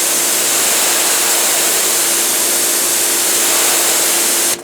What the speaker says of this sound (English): you can use it like a water broom